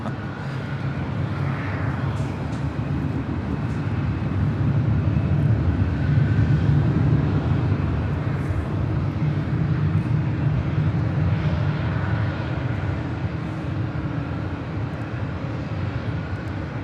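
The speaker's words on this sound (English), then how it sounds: "This is Delta Airlines 1049 departing to Denver, Colorado on an A319." A Delta Airlines A319 departing Los Angeles International Airport for Denver, its jet engine roar sustained and broad at a moderate distance, swelling slightly midway before holding steady, with no voices.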